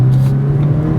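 A Ford Fiesta ST hot hatch's exhaust growls in a brief, close, loud burst as it accelerates through a residential neighborhood, a deep steady engine drone.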